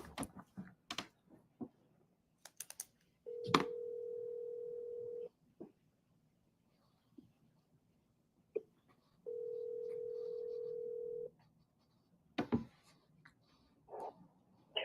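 A phone call rings out with two long, steady ringback tones separated by several seconds of near silence, heard close through a handset. Light clicks, taps and movement noises fall between and around the tones.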